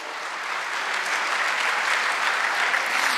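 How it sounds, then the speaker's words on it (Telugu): A crowd at a team training reunion claps loudly for about three seconds. The sound is a thick, continuous roar of many hands that swells slightly as it goes on, with no speech over it. "ఒక్కసారి మీకోసం మీకు గట్టిగా క్లాప్ చేయండి"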